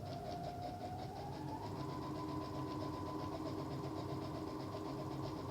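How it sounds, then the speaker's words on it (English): A sewing machine stitches around the edge of a jacket, producing a steady, continuous motor whir with a rising pitch and a constant mechanical drone and no pauses. "but I'm just sewing around the whole thing."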